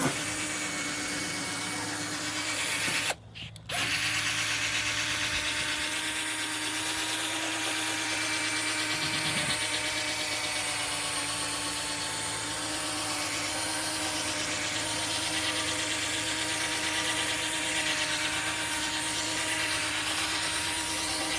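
Power sander working a car headlight lens during a wet-sanding restoration with a Mookis DIY kit, a steady whining drone with a brief dropout near the start, then continuous and close.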